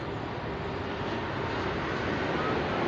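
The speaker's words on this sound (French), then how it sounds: "L'avion passe au-dessus de nous, nous sommes pas très loin d'un aéroport." A steady, broad roar of an airplane passing overhead near an airport in a Mediterranean landscape, constant and fairly loud throughout with no talk.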